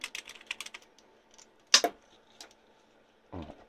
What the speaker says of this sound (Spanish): Aunque sea un teclado de membrana, la sensación al teclear recuerda a un teclado mecánico, incluso el sonido.